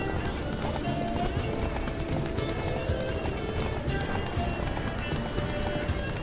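Horse hooves gallop in a steady clip-clop rhythm through the fantasy game The Witcher 3, with occasional whinnies and game music layered underneath at constant loudness throughout.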